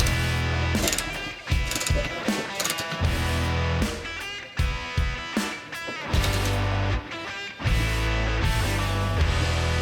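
A ratchet wrench tightens a bolt on a Unitronic MQB dogbone engine mount, its rapid clicking running steadily and loudly for the whole stretch alongside other busy mechanical clatter.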